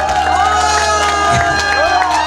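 A crowd at the Goseong scallop seafood festival claps and cheers for a pumba street performer, a loud, continuous roar of cheering and shouting mixed with tonal voices or music.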